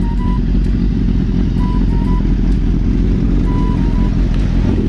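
A 1999 Kawasaki ZX6R inline-four with an R9 pipe runs loud and close, a dense, continuous engine roar held steady for a few seconds.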